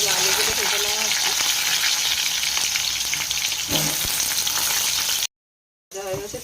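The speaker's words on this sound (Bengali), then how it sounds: "তেল গরম হয়ে গেছে, আলুগুলো ভেজে নেওয়া হচ্ছে।" Potatoes frying in hot oil for a Bengali chicken curry give a loud, steady sizzle that fills almost the whole clip, broken by a brief silent gap before the frying resumes.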